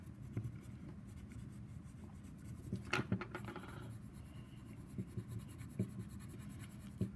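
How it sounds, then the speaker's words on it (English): A pencil lightly coloring on paper for an op art project, making soft, close, repeated scratchy strokes at an even rhythm, quiet and alone. "I'm just barely touching the paper as I'm coloring towards the center"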